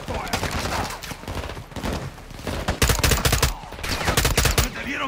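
Dense gunfire in Call of Duty Modern Warfare 2 campaign gameplay, with rapid overlapping shots and automatic bursts crackling almost continuously, loud and close, while shouted voices break through between volleys.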